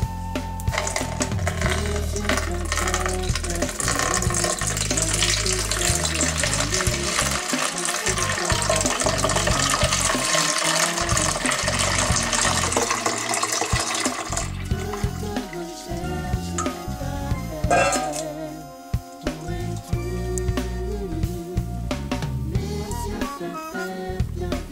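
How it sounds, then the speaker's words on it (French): Strained bissap (hibiscus) juice is poured through a small strainer into a salad bowl, giving a continuous close liquid splashing and trickling that runs for most of the time, then thins to scattered drips and clinks. "et le verser dans le saladier."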